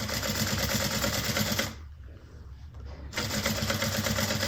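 Home sewing machine running with a rapid mechanical whir and a click-clacky rattle, loud and close, pausing for about a second and a half before starting again.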